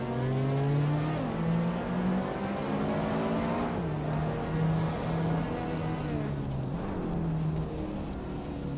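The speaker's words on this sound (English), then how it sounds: "Toucan's Flora is driving a Nissan Pulsar GTI, a car known for its rally heritage and turbocharged power" A Nissan Pulsar GTI rally-bred turbocharged car races, its engine droning and rising and falling in pitch through gear changes, loud and continuous with other racing engines blending in.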